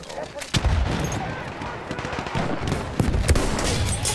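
Sniper rifle gunfire in Battlefield 1 multiplayer, a few sharp shots cracking out over a busy battlefield background of distant fire and game noise.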